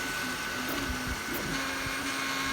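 An Anycubic Kobra 3 3D printer gives off a strange, steady mechanical whirring with a faint tonal hum and a few soft knocks, close by and continuous, with no voices.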